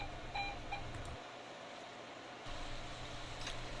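A Collectramatic pressure fryer timer gives a few short, faint beeps near the start over a steady fan-like hum, with no one talking.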